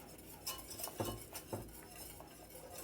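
A whisk works caramel over low heat in a pot, making faint, soft scrapes and light metallic clinks against the sides at an unhurried pace.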